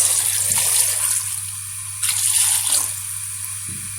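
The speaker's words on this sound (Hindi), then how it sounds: "इसके साथ शामिल करेंगे पानी तकरीबन 4 गिलास" Water is poured into a cooking pot holding garlic and onion for a mutton head and trotters dish, a steady splashing pour in two bursts with a constant background hum.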